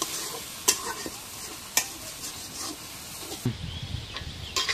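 Duck curry being stirred in a cooking pot, a loud continuous sizzle and hiss with sharp spoon knocks against the pot and a wetter bubbling turn near the end, no talking.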